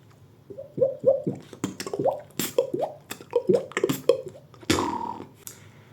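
A voice imitates water drops with a series of quick, hollow plopping pops in a steady rhythm, ending on a longer breathy burst; no other sound.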